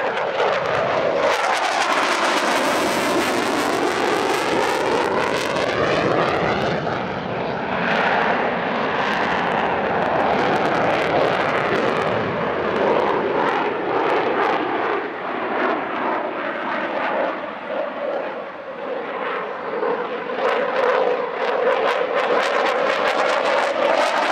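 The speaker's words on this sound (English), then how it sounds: "The Rafale is an extremely exciting aircraft to watch at an airshow, thanks to its tight turn radius and exceptional roll rate" A Dassault Rafale fighter jet flies an airshow display, its loud continuous engine roar sweeping with changing pitch as it passes, rising and falling across the whole stretch without any voices.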